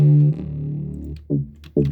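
Synth tone treated with a heavy flanger effect on a house track, a long sweeping note followed by two short stabs.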